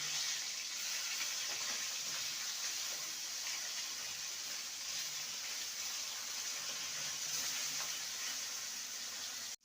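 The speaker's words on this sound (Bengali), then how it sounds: "মাছটা ভাজা হতে থাক" Fish fries in mustard oil with a quiet, even hiss of sizzling that holds steady and unbroken throughout.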